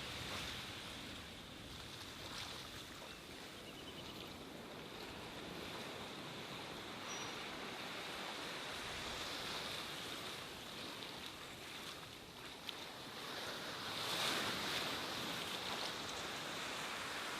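Ocean surf washing against rocks at low tide, a steady broadband hiss and rush of water with gentle swells, quiet and somewhat distant, with wind noise and no talk.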